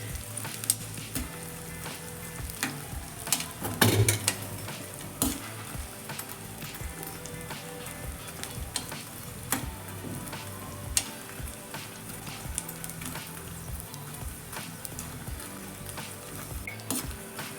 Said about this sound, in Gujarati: મીડિયમ આંચ ઉપર જ આપણે ગુંદર તળીશું જેથી અંદર સુધી સારી રીતે તળાઈ જાય